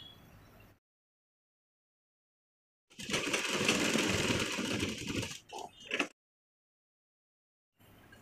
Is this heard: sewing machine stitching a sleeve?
yes